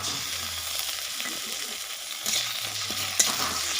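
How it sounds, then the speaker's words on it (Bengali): Climbing perch (koi fish) frying in oil with ginger-garlic paste, stirred in the pan: continuous close sizzling with several scraping stir strokes and a sharp clack near the end. "আদা রসুনের বাটাটা দিয়ে দিচ্ছি"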